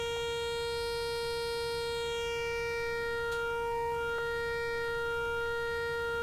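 Sawtooth oscillator of a CHIPZ Cre8audio modular synth module: a steady, bright, buzzy tone holding a constant pitch throughout, rich in harmonics, with a few faint glitchy clicks along the way.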